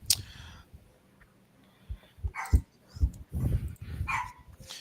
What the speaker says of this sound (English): if this dog don't stop